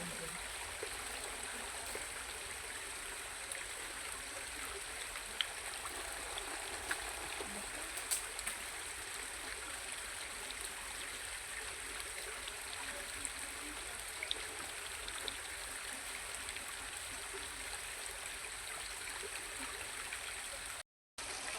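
A river stream flows with a steady, broad rushing and gurgling wash that stays constant and fairly quiet, with no voices over it.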